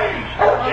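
A dog barks close by outside a residence, a short loud yelping bark over a noisy background.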